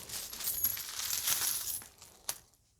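Loose coins, including medals and sets sold as mystery boxes, drop and clink against one another in a short bright jingling run that settles into a final sharp clink, close and moderately loud, with no talking.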